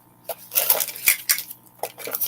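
Small feeding dishes for mystery snail tanks clink and rattle as they are unpacked, a run of close, bright knocks and taps arriving in short irregular bursts.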